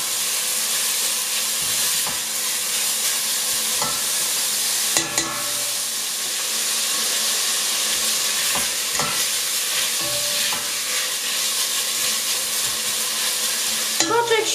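Bacon sizzles steadily in a frying pan with a continuous crackling hiss, punctuated by a few sharper pops and occasional scrapes of a utensil; no one speaks.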